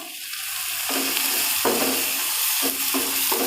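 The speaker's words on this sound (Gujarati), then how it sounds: "હવે આપણે નાખી દઈશું કાંદો" Steady hiss of onion frying in hot oil, broken by a few sharp bursts of sizzle as it hits the pan, close and fairly loud, no talking.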